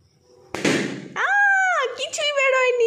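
A child's balloon bursts with a sudden loud pop and crackle, quickly followed by excited voices.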